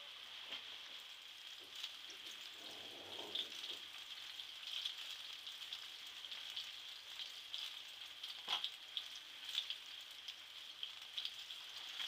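Cheese-stuffed plantain fries in a pan with a faint, steady sizzle and crackle, quiet and continuous with a few soft pops.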